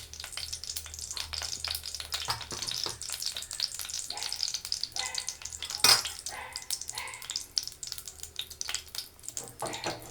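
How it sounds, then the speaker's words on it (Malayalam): Mustard seeds spluttering and popping in hot oil, with a steady dense sizzle, scattered sharp crackles and one loud burst of pops midway, close up in a home kitchen. "കടുക് പൊട്ടട്ടെ."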